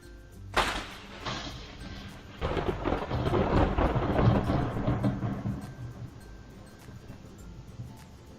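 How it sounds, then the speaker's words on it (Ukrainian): A sharp crack of thunder followed by a long, deep rolling rumble that slowly fades, with rain faintly in the background. "Так, це був грім."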